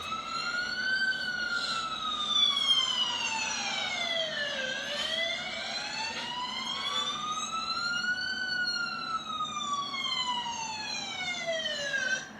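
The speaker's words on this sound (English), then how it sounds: "here's a sound of the fire engine for you to imitate." Fire engine siren wailing in long smooth rising and falling sweeps, loud and steady throughout with no voices over it.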